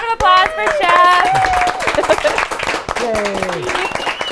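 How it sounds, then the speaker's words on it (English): A studio audience applauds and cheers for a chef at the end of a cooking segment, steady clapping throughout with voices talking and whooping over it, loud and close. "Yes, a round of applause"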